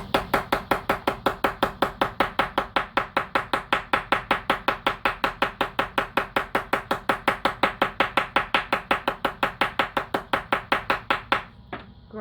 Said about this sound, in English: then you're going to use your ink blending tool, the handle, like a hammer